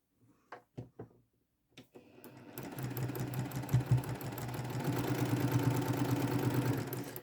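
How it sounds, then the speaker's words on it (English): A sewing machine stitches a quilt seam, running in a steady fast mechanical whir after a few soft handling clicks at the start, close and continuous. "I will sew that again to this."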